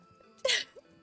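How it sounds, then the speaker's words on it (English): A single sharp sneeze bursts out briefly and loudly, followed by a small breathy sound, in a quiet indoor setting. "Okay, I have to sneeze."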